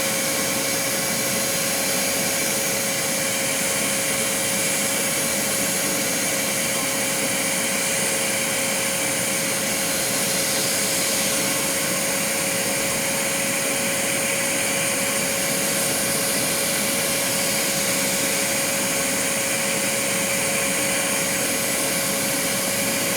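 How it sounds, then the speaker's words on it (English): A Vinyl Vac record-cleaning vacuum runs steadily and loudly with a constant whining motor tone and broadband airy hiss, unchanging throughout with no talking. "Okay, Vinyl Vac on,"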